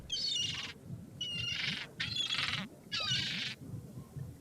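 Bird calls from The Secret of Monkey Island, a set of four bright chirping squawk bursts in steady succession, loud and close over a low ambient bed.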